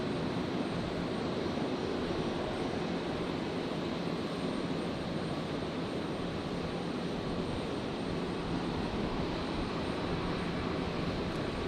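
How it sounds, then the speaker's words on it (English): A Jetstar Airbus A320 arriving from Sydney touches down at Brisbane Airport, a steady, fairly distant broadband jet roar that holds evenly for about twelve seconds with no voices. "Just in time for the touchdown of Jetstar 820. The 320 arriving from Sydney."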